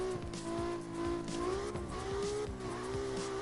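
The Piranha X car drifts in CarX Drift Racing, with a steady high engine drone and continuous tire squeal with skidding, loud and close, with no talk.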